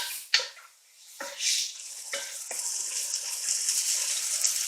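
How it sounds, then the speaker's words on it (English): Garlic sautéing in a pot for a red wine pot roast: a few utensil clunks against the pot at the start, then a steady, close sizzle that builds and holds to the end. "To this, we are going to add in our garlic. And we're going to saute this for about 1 to 2 minutes."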